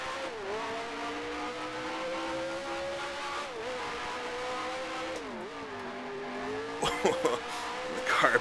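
Race car engine in the Grand Prix Legends sim racing game, a steady high-pitched drone that rises and dips with throttle through corners, with brief tire squeal and curb rattle near the end, loud and continuous.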